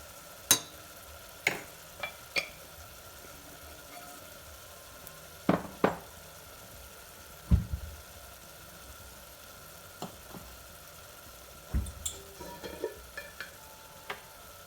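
Masala frying in oil in a pan, a soft continuous sizzle broken by a series of sharp spoon taps and scrapes against the pan at irregular intervals.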